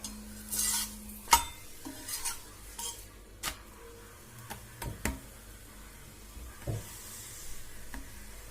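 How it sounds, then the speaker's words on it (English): A metal spatula presses a chapati on an iron dosa tawa, giving soft scattered taps, scrapes and clinks over a faint sizzle, quiet and close with short irregular pauses. "This is how I press the chapati."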